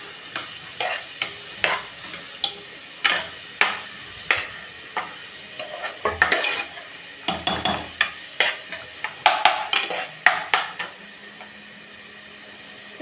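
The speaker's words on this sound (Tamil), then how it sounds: "இப்போ வெங்காயத்தை சேர்த்துடலாம். நல்லா வதக்கிக்கோங்க." Onions sauté with spices in a pan, a low sizzle under frequent sharp clinks and scrapes of a spoon stirring against the metal in an uneven rhythm, close and clear, with no talking.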